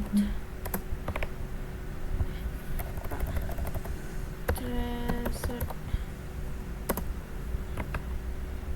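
Typing on a computer keyboard over a steady hum, with scattered individual key clicks and a few quick clusters of taps, moderately close and with no talking.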